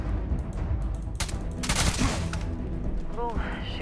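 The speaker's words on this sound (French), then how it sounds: "c'est le mec juste au-dessus qui me tire dessus" Enemy gunfire in the sci-fi shooter Starfield, a dense burst of rapid shots from a foe positioned just above, loud and continuous amid layered game noise and effects.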